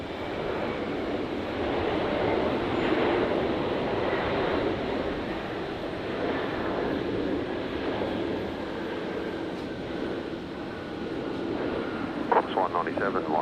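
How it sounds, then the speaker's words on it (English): A passenger airliner in from Hong Kong touches down on runway 19 left at Brisbane Airport, a steady broadband engine and rolling roar held at fairly constant loudness for the whole stretch, with brief sharper clatter near the end. "So Cafe 157 touching down on 19 left from Hong Kong"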